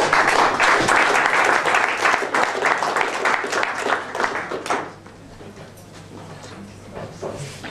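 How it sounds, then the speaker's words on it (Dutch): Audience applause at a jazz and spoken-word evening welcoming a poet, lively close clapping that fades after about five seconds into quieter scattered claps and room noise. "Een applaus voor Max alsjeblieft."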